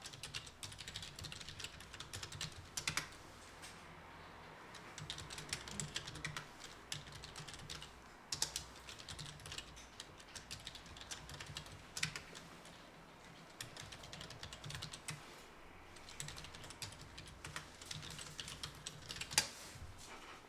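Close, continuous clatter of typing on a computer keyboard, quick bursts of keystrokes separated by short pauses and an occasional heavier key press, with no talking.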